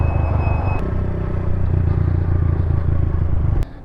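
A pit bike engine revs hard and rumbles loudly up close while the rider pops a wheelie, the throaty drone holding steady before cutting off abruptly near the end.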